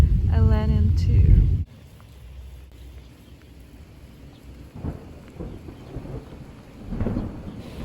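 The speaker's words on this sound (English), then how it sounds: "Can you hear the thunder?" Thunder rumbles loudly and close during a rainstorm in a village in the Ural Mountains, then fades into steady rain patter with faint further rumbles.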